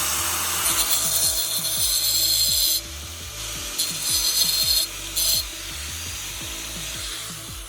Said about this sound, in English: you always got to grind a U in it